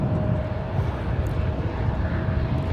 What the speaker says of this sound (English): Gorgeous takeoff there from Japan Airlines.